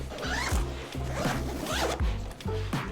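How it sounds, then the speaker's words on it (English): A zipper on a Nomatic camera backpack is pulled open to expand the bag, giving a run of quick, close, rasping zips in short repeated strokes. "So if I take this zipper"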